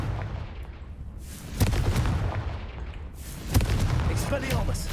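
Two booming Confringo spell blasts in Hogwarts Legacy, each a sharp crack followed by a rumbling burst, spaced about two seconds apart over low background noise.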